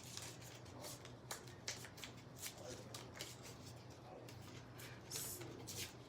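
Green paper having its edge torn off by hand, heard up close as a series of dry rasping rips and crinkles with steady background hiss.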